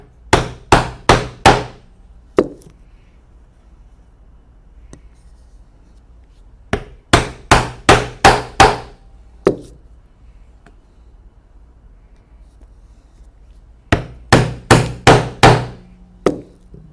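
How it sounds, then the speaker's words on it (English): Round drive punch struck with a hammer through several layers of leather belt, heard as three separate bursts of four or five sharp, loud blows in quick succession, each burst ending with a single lighter tap. "I'm going to use a round drive punch and go all the way through all the thicknesses of the leather"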